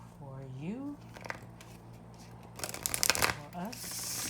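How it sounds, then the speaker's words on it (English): A deck of cards shuffled for a reading, giving quick papery riffles with a dense burst near the end, alongside a person talking. "One more shuffle to see what the message is."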